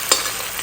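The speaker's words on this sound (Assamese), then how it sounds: "মাছেই হ'ব এতিয়া ফ্ৰাই কৰি" A short burst of steady, hissing sizzle as fish fries in hot oil in a pan, close and fairly loud.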